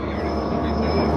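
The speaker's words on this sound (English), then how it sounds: "now from that train, we have jumped onto the train to Zermatt" A Swiss train bound for Zermatt rolls along in a brief, steady rumble of wheels and carriage noise, heard close from on board with no talk.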